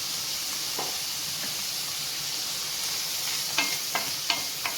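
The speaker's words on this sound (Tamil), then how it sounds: "லேசாக பரட்டி விட்டு எடுத்துக்க வேண்டியதுதான் தேங்காயெல்லாம் ரொம்ப வதங்கணுங்கிறதெல்லாம் கிடையாது" Grated coconut being lightly stir-fried in a pan for a capsicum chutney, giving a steady soft sizzle with a few faint scraping stirs toward the end, close and unaccompanied by talk.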